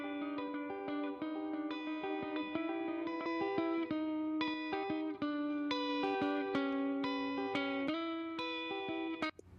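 Electric guitar-like sustained chords and notes driven through T-Racks Saturator X saturation plugin, mildly distorted and thickened with effects, playing continuously and loud without talk.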